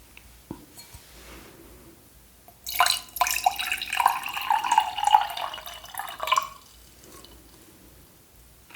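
Water is poured into a glass in a quiet indoor setting, a close, bright trickle lasting about four seconds with small splashes, then fading to silence.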